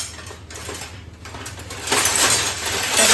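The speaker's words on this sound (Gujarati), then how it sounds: "ચમચાથી કટ કરી લઈએ આપણે." A metal spoon cuts a soft Gujarati handvo in a pan, giving a few light scraping clinks against the pan amid faint sizzling, close and moderately loud.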